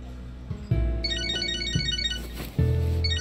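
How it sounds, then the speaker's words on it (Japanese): A phone ringtone chimes in the video game Catherine Full Body, a repeating electronic melody over steady game background music, clear and moderately loud with no talking. "電話か。"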